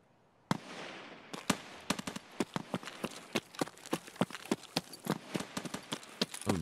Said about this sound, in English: A really, really high caliber rifle.